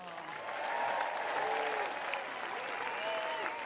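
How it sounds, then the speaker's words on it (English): Crowd at a professional tennis match applauds steadily for a player after the match, the clapping fairly distant and soft beneath an indistinct voice. "Round of applause, please, for Benoit."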